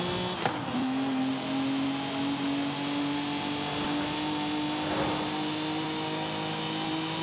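A Nissan Silvia Spec-R from 2000 in the racing game Forza Horizon 5, its engine holding a steady, rising drone with a sustained tonal whine, fairly even in level throughout.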